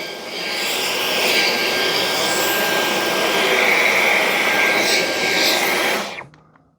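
Dyson V9 cordless vacuum cleaner running in boost mode, a loud, steady high-pitched whine and airy roar held close for several seconds before cutting off.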